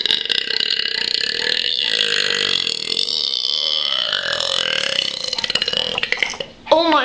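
One very long, continuous burp rolls on for several seconds, close and fairly loud, with its pitch wavering throughout and ending in a short rough sputter.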